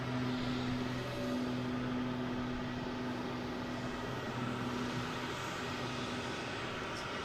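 An airplane at Boston Logan airport produces a steady, moderately loud engine drone with a low sustained hum, constant throughout and free of speech.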